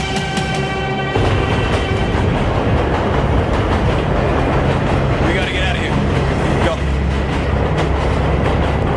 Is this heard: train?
yes